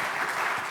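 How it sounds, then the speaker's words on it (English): A business summit audience gives a burst of applause for the panel: dense, continuous clapping throughout, fairly loud and close. "Can we have a huge round of applause for all the panelists"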